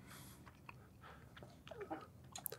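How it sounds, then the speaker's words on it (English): Someone eats waffles close to the microphone, with quiet irregular chewing and a few crisp crunchy bites, and no talk over it. "I don't want to be chewing on the air"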